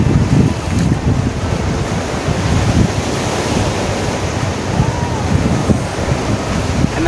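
Steady, blustery wind rumbles across the microphone, mixed with the broad wash of surf, loud and continuous for the whole stretch with no clear voices.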